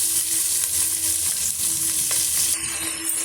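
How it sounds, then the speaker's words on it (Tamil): A steady, loud sizzle of onions and curry leaves frying in a pan, with occasional scraping of a spoon stirring, and no voices. "இந்த வெங்காயம் வந்து நல்லா வதங்கி வர வரைக்கும் நம்ம வதக்கி விட்டுக்கலாங்க"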